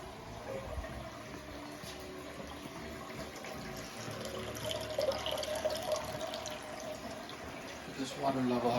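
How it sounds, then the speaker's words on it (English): Water running into a glass aquarium during setup, a continuous close trickle and splash that swells slightly toward the end, with faint rising gurgles. "Water's going in now."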